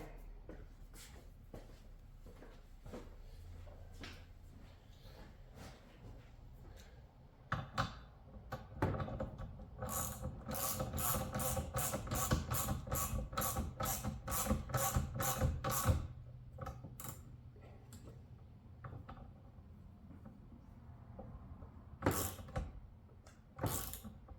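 Bolts are tightened on a Jeep JL cowl, giving quick ratcheting clicks with a fast run of sharp, evenly spaced clicks in the middle. A few more clicks come at the end, close by and with no talk.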